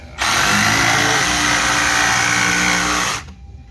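An electric jigsaw cuts holes in a tabletop for a trash roll-out assembly, a loud, steady buzzing whine lasting about three seconds before stopping abruptly, close up and alone.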